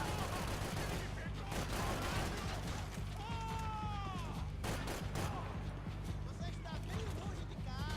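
Rapid gunfire crackles through a firefight in Max Payne 3, dense bursts of shots and automatic fire layered over a heavy, continuous rumble, with brief vocal yelps and shouts mixed in.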